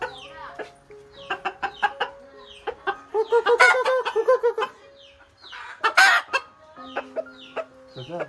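Chickens at a Konkan poultry farm cluck and cackle close by in irregular bursts, with several birds overlapping and a short crow-like call partway through.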